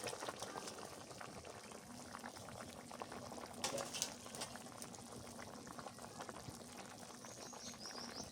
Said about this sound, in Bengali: ভালো ফুটছে মাছ দিয়ে দিই